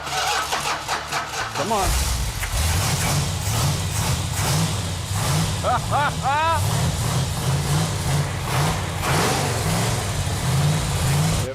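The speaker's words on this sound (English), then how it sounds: "It feels really good to hear that engine run." A Dodge Super Bee with a 440 Six Pack V8 and 4-speed cranks, catches and settles into a loud, lumpy idle close by, with a few throttle blips and a man urging it on.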